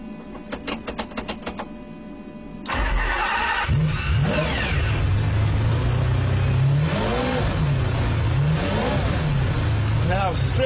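A race-spec, stripped-out supercar, a Ferrari Enzo or McLaren F1 with no sound deadening, fires up after a master switch and fuel pumps click on: a loud engine catch followed by repeated sharp revs rising and falling, close and dominant.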